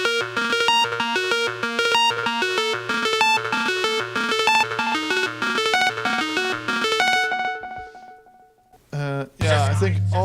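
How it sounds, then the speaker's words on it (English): Blippy, rhythmic synth notes pulse in a fast repeating pattern inside an electronic music mix. The sound is loud and bright, then fades out near the end, followed by a brief burst of other sound. "Blippy rhythmic sounds like this."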